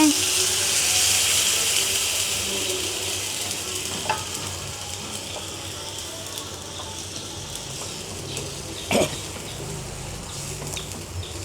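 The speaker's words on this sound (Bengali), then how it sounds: "এখন আমি গরম পানি দিচ্ছি এই যে" Hot water poured into a cooking pot of beef and radish (mula) curry, giving a steady sizzling hiss that runs throughout, with a couple of brief sharper clatters.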